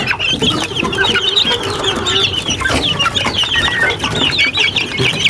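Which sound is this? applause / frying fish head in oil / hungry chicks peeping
hungry chicks peeping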